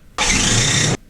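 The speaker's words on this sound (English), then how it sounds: "That is the sound of my starter failing." A Toyota Land Cruiser J100 with a failing starter motor gives one loud, steady mechanical burst lasting under a second, cutting in and out abruptly, with no voices.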